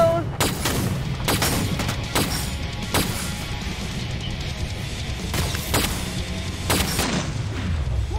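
Grenade blasts and gunfire in the shooter game Killing Floor 2: a string of sharp, loud booms about every second, layered over a dense, continuous roar of combat.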